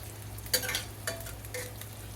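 Food browns in a hot pan, giving a soft, steady sizzle broken by a few brief scrapes and stirs. The sound is close, fairly quiet and has no talk over it.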